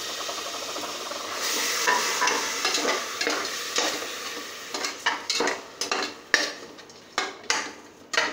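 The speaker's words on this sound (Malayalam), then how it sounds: "നമ്മുടെ ടൊമാറ്റോ പ്യൂരി ഒഴിച്ചു കൊടുക്കണം" Tomato puree goes into a frying pan with a steady wet sizzle, then a spoon stirs it in repeated scraping strokes that grow sharper and more broken toward the end, close up, with no talking.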